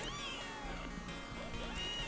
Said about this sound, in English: Is that kitten right here?